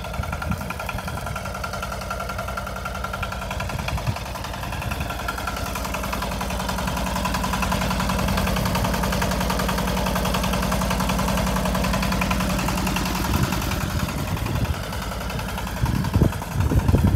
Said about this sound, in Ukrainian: виїхав по дрова в теплицю нашим мототрактором, тракторцем переробленим з мотоблока.